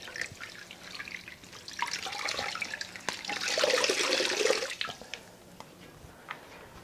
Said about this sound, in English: I will wash out the mop between the 2 rounds.